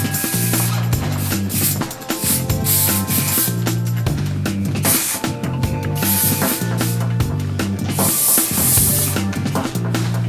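Short hissing bursts of a flexible-hold hairspray aerosol repeat over loud, steady background music.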